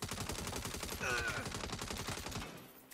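Automatic gunfire in the Saints Row video game crackles in a dense, rapid burst that runs steadily for a couple of seconds before easing off, loud and close, with no talking over it.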